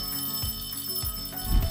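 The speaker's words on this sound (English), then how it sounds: "It's the class bell, and it means that it's time for recess." A school class bell rings continuously for recess, a bright sustained electric ringing with dense buzzing overtones, fairly loud and steady throughout with no talk.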